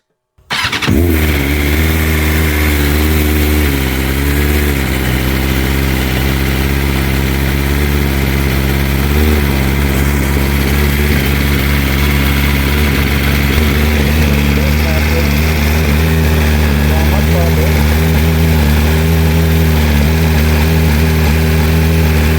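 A BMW M1000RR superbike fitted with an aftermarket exhaust fires up and settles into a loud, steady idle with a deep, throbbing tone that holds close and constant throughout.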